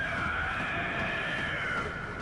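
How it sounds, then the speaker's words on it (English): Cleric Beast boss from the video game Bloodborne: a steady, sustained eerie tone, like a distant howl or wail, held under constant low rumble with no pauses. "That is the sound of the first boss I will be fighting."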